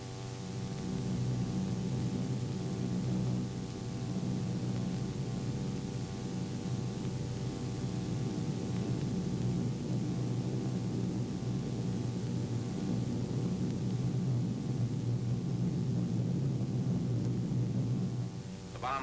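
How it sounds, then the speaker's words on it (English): Steady droning engine roar from a squadron of B-24 bombers in flight, a continuous hum with strong low tones that holds level for the whole stretch, with no break or change. "Eleven B-24 bombers make up our squadron"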